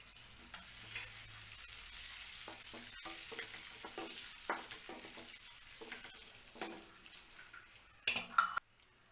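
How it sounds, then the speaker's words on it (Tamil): Boiled eggs frying in oil with chili powder for an egg masala make a close, continuous sizzle under occasional spoon scrapes against the pan, ending in a few louder clatters. "இந்த எண்ணெயில் கொஞ்சம் மிளகாத்தூள் போட்டுட்டு இந்த முட்டையை கொஞ்சம் ஃப்ரை பண்ணி எடுத்துக்கலாம்"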